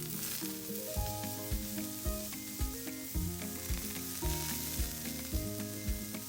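Wild mushrooms sear undisturbed in a hot pan, a soft, steady sizzle running quietly beneath rhythmic background music.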